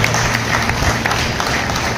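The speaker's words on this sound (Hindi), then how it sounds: "तालियां बजाएं" An audience gives loud, sustained applause for a guest at a student felicitation event. The dense, continuous clapping fills the room without a break.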